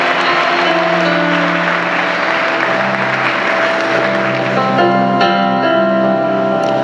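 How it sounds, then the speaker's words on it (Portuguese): A congregation applauds at the close of a church congress, dense steady clapping filling the whole stretch over sustained organ-like musical tones. "Vamos aplaudir mais uma vez o nome do Senhor Jesus"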